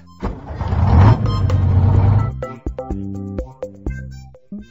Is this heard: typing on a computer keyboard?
no